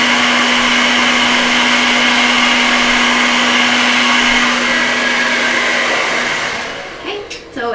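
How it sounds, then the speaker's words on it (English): A hair dryer blows loudly and continuously with a steady whine, then cuts off near the end, leaving quieter rustling. "I'm going to aim the blow dryer at my roots and bring it upwards"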